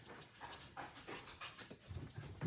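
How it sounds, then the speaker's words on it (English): A dog runs around indoors and pants, its rapid, breathy huffs faint and distant under a low room hiss, with a few soft thumps of movement. "that's the dog tearing out the lower level"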